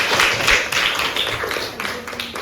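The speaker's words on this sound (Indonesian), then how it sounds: "Sekali lagi tepuk tangan untuk kita semuanya" A class of teachers-in-training claps for each other after group presentations, a loose room of hands clapping with uneven sharp claps standing out, fairly close and tapering slightly.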